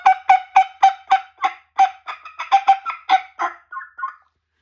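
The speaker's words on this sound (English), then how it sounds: "So if you need a turkey on a flute call, one of a kind" Turkey yelps and gobble-like clucks played on a handmade flute call, a rapid run of about a dozen loud, raspy, high-pitched notes that slow and soften toward the end, heard alone.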